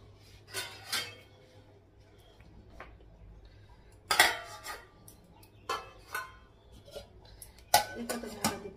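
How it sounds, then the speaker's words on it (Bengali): Lids set onto pots of curry in a home kitchen: a few sparse metallic clinks and knocks, spaced apart over a low steady hum, with no talking. "তরকারিগুলো ঢাকা দিয়ে দিই।"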